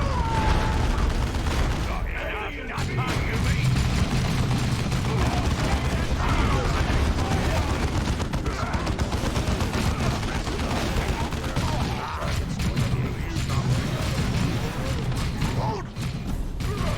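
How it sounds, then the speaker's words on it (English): Grenade blast and dense gunfire in the Dawn of War 2 strategy game, a continuous loud battle din of rattling shots and booms with voices calling out over it. "Grenade!"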